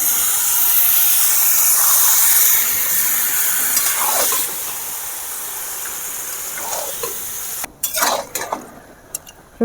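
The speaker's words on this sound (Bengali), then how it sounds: "এবারে আমি চিকেনটা দিয়ে দিচ্ছি।" Chicken hits hot spiced oil in a pan for chicken kosha, a loud continuous sizzle and hiss that eases after a few seconds, followed by brief clattering stirs toward the end.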